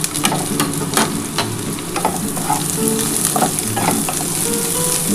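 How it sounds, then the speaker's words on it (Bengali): Onion and green chilli fry with a steady, loud sizzle in hot oil, added after a little garlic for a red amaranth greens stir-fry. A spoon scrapes and stirs at intervals throughout, with no talking. "দেখো বন্ধুরা এই যে পেঁয়াজ আর কাঁচা লঙ্কাটাও দিয়ে দিলাম"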